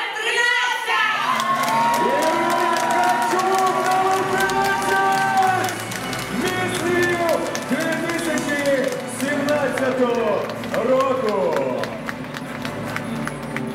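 A hall audience bursts into loud applause and cheering at the Miss Lviv 2017 pageant announcement, sustained clapping and shouts under an announcer's amplified voice.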